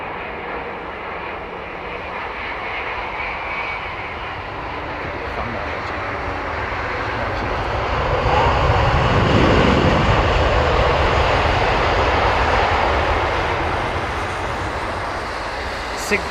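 Jet airliners' engines run during pushback at London Heathrow, a steady loud roar that swells midway, then eases back to a constant drone.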